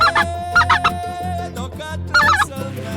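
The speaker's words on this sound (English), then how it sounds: "What is it? Snow goose." Snow goose calls during a rice-field waterfowl hunt: loud, honking and gobbling bursts repeating in clusters, close by and alone without talk.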